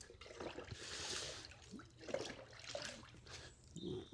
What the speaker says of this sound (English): Right, let's rinse this off.